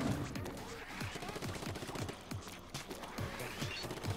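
In Splatoon 2, ink is fired at an ink switch in rapid repeated bursts, a dense stream of splattering shots over background game sound.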